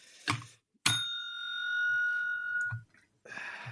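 A bicycle-style hand bell rings during a Formula 1 podcast quiz, with one sharp struck ding that rings on and slowly fades over about two seconds, followed by soft knocks and handling noise.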